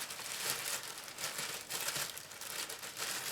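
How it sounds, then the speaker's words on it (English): Thin plastic bag crinkling and rustling close up while a Panasonic RX-D30 dual cassette mini boombox is unboxed, a steady rough texture that swells in several bursts over a few seconds, with no talking. "we got still another plastic bag. Is it sealed as well? Or can I just open it?"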